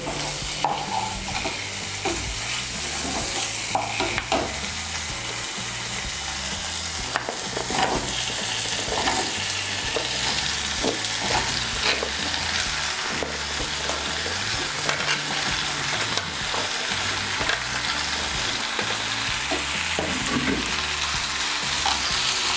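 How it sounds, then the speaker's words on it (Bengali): Cut vegetables, potato, pumpkin, ridge gourd, brinjal and pointed gourd, stirred and fried in a cooked-down spice masala, a steady close sizzle broken by repeated scraping stirs throughout, with no talking. "আমি এই সবজিগুলোকে এখন ভালো করে মশলার সঙ্গে মিশিয়ে নেব।"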